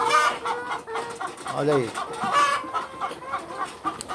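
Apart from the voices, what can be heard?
chickens clucking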